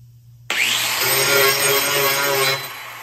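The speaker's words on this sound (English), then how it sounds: "with a ArborTech cutting wheel. A Roby grinder, very important." A grinder fitted with an Arbortech cutting wheel bites into a wooden board while shaping a charcuterie board, starting abruptly with a loud, sustained high whine and rasping cut that holds steady, then eases off slightly near the end.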